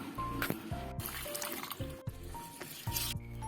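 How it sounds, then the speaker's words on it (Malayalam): Raw ration rice washed in water in a vessel, with repeated sloshing and swishing, trickles and drips, and small clinks of grains and pot at close range. "ഇത് രണ്ട് മൂന്ന് വെള്ളം ഞാൻ കഴുകുകയാണ്"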